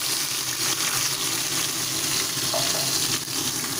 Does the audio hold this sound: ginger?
yes